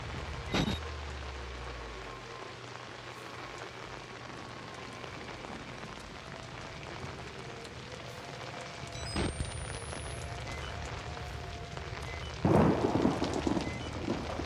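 Thunder rumbles and rain falls steadily during a lightning storm in the horror video game Outlast, with a deep rolling boom at the start, a sharp crack partway through and a louder burst of rain or thunder near the end.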